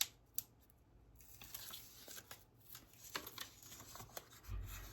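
Scissors snip through pink paper for a scrapbook layout, giving quick, close, crisp cuts in an uneven rhythm with faint paper rustling between them.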